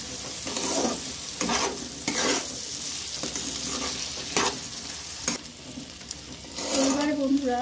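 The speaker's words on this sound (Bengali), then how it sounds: "এই যে মশলা থেকে তেল ছেড়ে এসছে, তারপরে এই ভাজা আলুটা আপনারা দিয়ে দেবেন।" Fried potatoes stirred into spiced oil in a pan, with continuous sizzling and repeated scraping strokes of a spoon in a steady rhythm, close and moderately loud.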